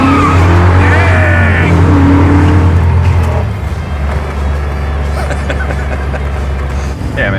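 A Ford Mustang 5.0 drives along, its engine a steady loud drone with a brief shift partway through, heard from inside with wind noise around the car.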